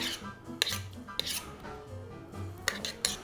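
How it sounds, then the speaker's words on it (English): Shrimp po'boy ingredients being mixed in a bowl, a steady scraping and rubbing with a few sharp clinks of utensil against the bowl, close and fairly quiet. "Just mix the fucking thing"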